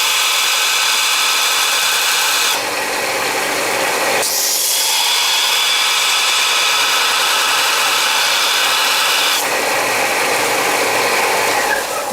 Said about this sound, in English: If I'm going to sharpen this, I want to lay it down on the heel and bring it up